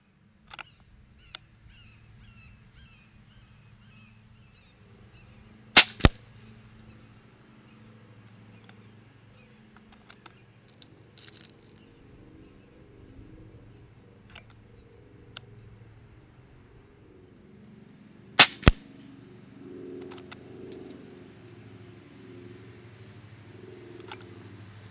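An Airforce Condor SS .22 air rifle fires shots in a 10-shot group, sharp isolated cracks spaced well apart, with quiet mechanical handling and faint rustling in between.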